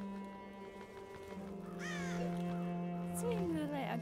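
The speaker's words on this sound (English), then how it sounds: "With a bunch of drunk crows." Crows caw in a tavern in the video game Child of Light, several harsh calls rising over a steady low music drone, with a voice talking over part of it.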